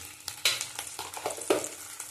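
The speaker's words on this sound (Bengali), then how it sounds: "ভালো করে কষিয়ে নেব।" Ginger and garlic paste sauté in hot oil for katla fish, sizzling close by as a spoon stirs and scrapes the pan in short, uneven bursts.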